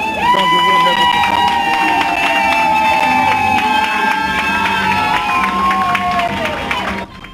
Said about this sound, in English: provoked shouts of joy and a thunderous applause from employees of Equinoxe Radio and Television and La Nouvelle Expression newspaper